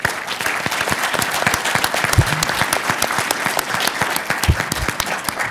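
An audience at an MIT energy pitch event applauds at length, with dense, steady clapping that fills the room and a few louder claps standing out.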